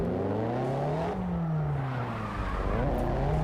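A Nissan S15 drift car in CarX Drift Racing Online revs hard with rising and falling engine pitch while its tires squeal steadily through a corner, loud and close throughout.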